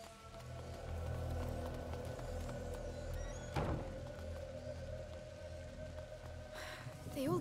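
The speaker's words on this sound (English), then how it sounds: "Lucas, Hugo, stay out of the rain" Video game rainfall patters as a steady, soft wash of drops on surfaces, with a few thuds and tonal game sounds layered over it and a brief swooping effect midway.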